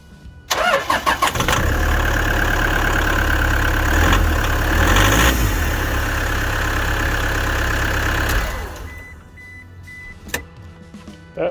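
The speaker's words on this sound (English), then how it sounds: "That sounds very much like a diesel. It sounds pretty good actually." A Toyota Hiace van with about 720,000 km cranks and its diesel engine catches, settling into a steady, loud idle nearby for several seconds before being switched off, leaving quiet clicks.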